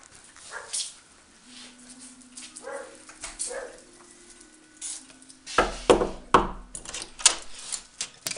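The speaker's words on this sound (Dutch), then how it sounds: "Wat was er nou te blaffen, meneertje?" A small dog barks in a home, with a few sharp, irregular barks and some whimpering heard close by amid household clatter; someone talks to the dog in between.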